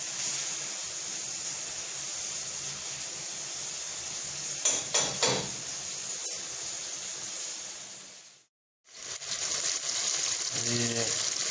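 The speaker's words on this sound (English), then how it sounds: "you can fry up anything. The saltfish are fry up" Saltfish fries in a pan with a steady, fairly faint sizzle and hiss, broken by a few clanks of utensils, a brief gap of silence, then more sizzling, in a Jamaican breakfast kitchen.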